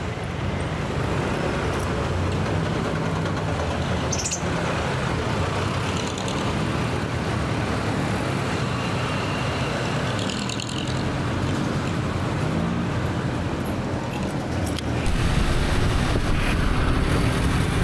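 Heavy road traffic with buses and public utility vehicles in Imus, Cavite: a continuous loud roadway rumble of engines and tyres, with passing vehicle swells and brief higher squeals, growing heavier near the end, no speech.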